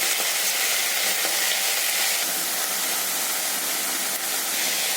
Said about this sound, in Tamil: இப்போ இந்த மல்லி புதினா இலைகளை போட்டு வதக்கும்.